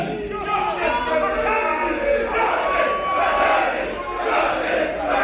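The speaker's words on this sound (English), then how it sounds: "The crowd once again demanding a rematch for Kirby" A wrestling crowd at a WCPW Loaded event chants and roars together for a rematch for Kirby, a loud, dense, steady wall of massed voices rising and falling in waves throughout.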